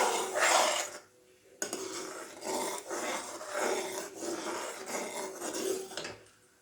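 Spoon scraping and stirring a thickening homemade milk powder mixture in a pan, giving repeated rhythmic scrapes and metallic rubs close by, with a brief pause near the start.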